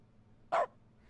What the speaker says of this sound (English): It's the barking furniture.